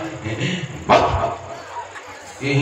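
A comedian imitates a dog barking with a single short, sharp bark set between bits of his own talk.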